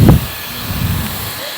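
A high-speed hair dryer blows with a steady, airy whoosh, starting with a brief louder burst then settling into a constant hiss.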